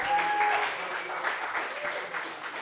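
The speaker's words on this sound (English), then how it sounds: "Everyone, once more, a big round of applause for Rebecca Rivera." Audience applause for a performer at a Bronx community Sant Jordi Day celebration, a steady wash of many hands clapping at moderate level with faint voices mixed in.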